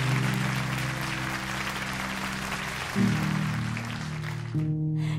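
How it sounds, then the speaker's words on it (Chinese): A crowd applauds to congratulate a contestant who has finished a hospital competition round. The clapping is steady and full, with sustained musical tones running underneath it. "掌声恭喜他。"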